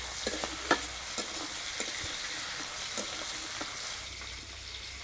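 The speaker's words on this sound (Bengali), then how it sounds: "চিংড়ি মাছটা ভেজে নেব" Shrimp fry in hot oil in a home kitchen pan, giving a steady close sizzle with occasional sharp pops and crackles and the scrape of stirring, with no voices.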